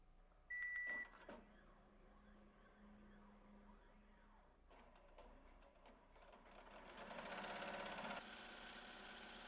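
A Melco Summit embroidery machine stitching micro chenille with a topper at about 1,000 stitches per minute, a steady mechanical whir and rapid clatter that grows louder partway through, close and without speech.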